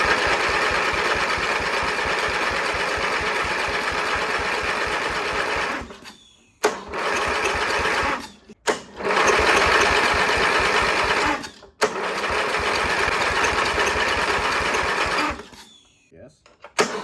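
An abandoned lawn mower's small engine runs loud and steady with a fast pulsing chug, cutting out briefly several times before catching again.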